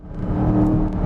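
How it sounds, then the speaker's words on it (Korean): An Aston Martin DBX is driven hard through a corner at high speed. Its engine gives a brief, steady, moderately loud drone with whirring road noise. "보통 다닐 때보다 훨씬 더 빠른 속도로 지금 코너를 몰아붙이고 있는데 한치도 밀림 없이 아주 단단한 구동력을 보여주면서 코너를 빠르게"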